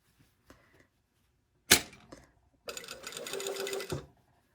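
A sewing machine runs in a sharp click, then in a short burst of rapid stitching that lasts over a second while a collar is sewn at an angle. Close and fairly loud, it starts and stops around quiet gaps.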